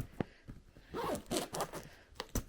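A bag zipper pulled open on a small compartment while packing luggage for a family trip, a few quick rasping pulls with short pauses, close and fairly quiet.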